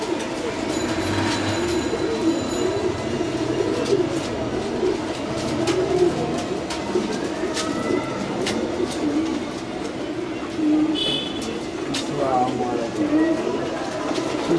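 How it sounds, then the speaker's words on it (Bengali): Pigeons coo in a loft holding about 150 pairs, a soft continuous murmur of overlapping birds under people talking, with occasional clicks and flutters close by. "150 পেয়ার কবুতর"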